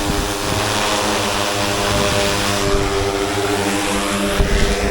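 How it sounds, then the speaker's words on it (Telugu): Farm training drone's propellers whine steadily and loudly after the throttle is pushed high, a sustained buzzing drone that holds through the clip with slight swells, no talk over it. "ఇప్పుడు త్రాటిల్ మనం ఒకటిసారి హై ఇచ్చినాం చాలా హైట్ పోతుంది డ్రోన్ అనేది"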